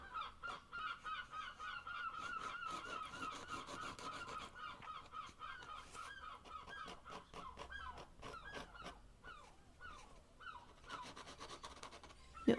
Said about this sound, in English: Seagulls, oh my god, the seagulls.